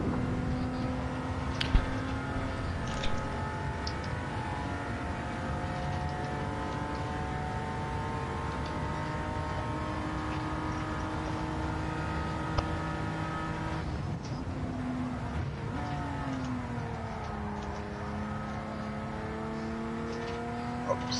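Mitsubishi GTO engine in the racing game Gran Turismo 7, a steady close drone with long stretched gears, revs climbing slowly and dropping at a shift midway before rising again, with no talk.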